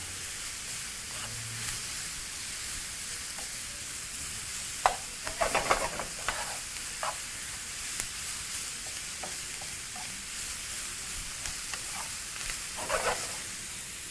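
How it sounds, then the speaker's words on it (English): Vegetables for a turmeric rice stir fry sizzle steadily in a pan while tongs toss them, giving scattered scraping clacks and a louder clattering burst midway over a constant hiss. "using a pair of tongs, proceed to just toss everything in the pan"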